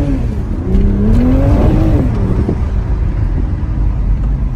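Toyota Supra engine revving, its pitch rising and falling through a throttle blip before settling into a loud, steady low rumble, close and alone with no talk.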